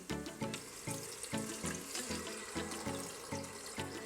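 Beef broth from boiling beef pours steadily into a pot of beef stew, splashing and gurgling under a rhythmic pulsing pattern, continuous and close.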